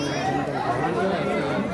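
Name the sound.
crowd chattering near a temple during Navratri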